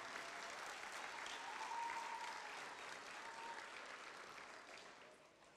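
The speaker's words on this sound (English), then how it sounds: "Let's give them all a round of applause" A crowd at a school Dads Take Your Child to School Day gathering gives sustained, even applause that slowly fades toward the end.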